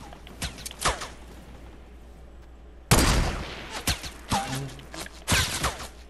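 Bursts of gunfire in a shooter video game, with a few scattered shots early on, then a loud close burst followed by several sharp cracks.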